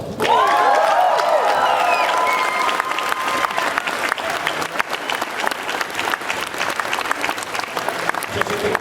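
Dense audience applause fills a Comic-Con panel hall in San Diego, loud and sustained at first, then easing slightly while a voice speaks over it.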